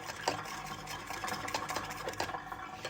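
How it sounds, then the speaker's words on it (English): White wine vinegar and chili flakes being stirred into a spicy vegan dipping sauce for red lentil pancakes; a soft, steady scraping and swirling close by, with no talk. "And then you mix."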